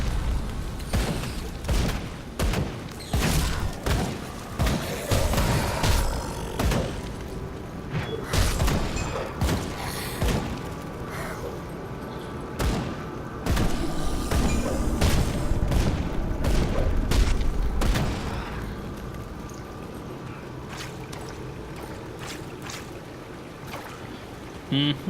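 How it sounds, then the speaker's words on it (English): Shotgun blasts in the action RPG Grim Dawn, a rapid, irregular barrage of loud booming shots over about twenty seconds, thinning out near the end, with no speech. "Say hello to the boomstick."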